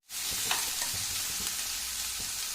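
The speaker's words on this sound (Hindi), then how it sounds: "अब इसमें मैंने ये शिमला मिर्च डाल दिया।" Bell pepper fries with onions and potatoes in a pan, making a dense, steady close sizzle after a quick onset, with a few soft taps from a spoon.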